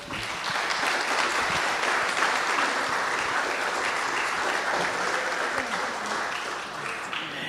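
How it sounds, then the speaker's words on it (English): An audience at a UFO conference gives a big round of applause, a loud, dense and steady wash of many hands clapping that holds throughout, with faint crowd murmur beneath. "maybe we can give him a big round of applause this year"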